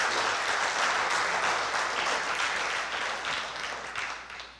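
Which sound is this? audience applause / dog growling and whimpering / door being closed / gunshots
audience applause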